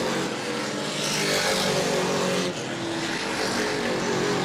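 Super Stock race car roaring past the start-finish line at New Smyrna during a 50-lap race, a loud sustained engine note that swells and holds steady throughout, with other engine noise behind it.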